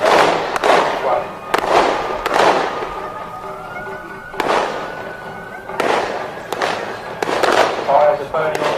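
Miniature warships in a pond battle fire short-range carronades, heard as repeated sharp bangs spaced a second or so apart, loud and close, each with a crackling tail. A narrating voice runs underneath.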